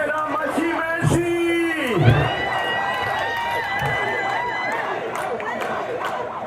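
Large concert crowd at an outdoor stage show in Rwanda roaring with sustained cheers, whoops and yells, a loud continuous wash of voices with a few stronger shouts rising near the start.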